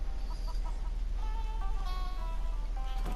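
A chicken clucks and crows in Fallout 4, a few repeated clucking calls at moderate volume over a low steady background hum.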